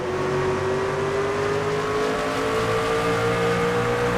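Race car engines roar in NASCAR 25 career mode, a loud steady drone with rising pitch as cars run close together through a corner, no voices over it.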